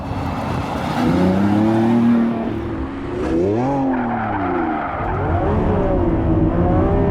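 A Lamborghini Revuelto V12 supercar accelerates hard, its loud engine climbing through revs, dipping at a gear change, then surging again, with some tire noise underneath.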